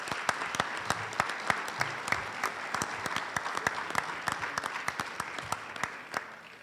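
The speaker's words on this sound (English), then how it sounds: "One more round of applause for Chris." Applause from an audience at the St. Bonaventure Athletics Hall of Fame induction ceremony, a steady wash of clapping with sharp individual claps standing out, sustained throughout and tapering slightly at the end.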